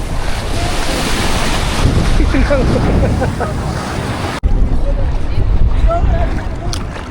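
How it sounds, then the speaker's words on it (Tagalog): Strong seaside wind roaring into the microphone over crashing surf, loud and continuous, with people talking faintly beneath during a family summer outing at the beach. "Lakas ang hagin ngayon."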